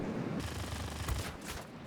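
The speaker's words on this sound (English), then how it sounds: "Oh, we got some passing shots." Machine gun fire rattles from a plane in World of Warplanes, a dense continuous burst of rapid shots mixed with engine roar and a few heavier impacts.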